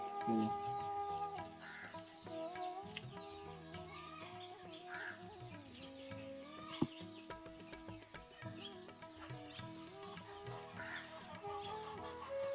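Chickens cluck and squawk on and off in a busy, continuous chorus, some calls nearby and others farther away, fairly quiet overall.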